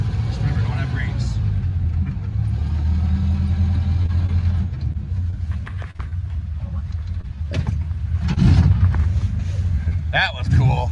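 A vintage snowmobile being driven, its engine giving a steady low rumbling drone that swells louder near the end, with talk over it.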